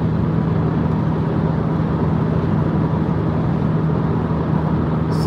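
Road noise fills the cabin as a car cruises fast on a highway beside a Toyota Corolla, a steady low rumble and tire roar with a constant hum, no one speaking.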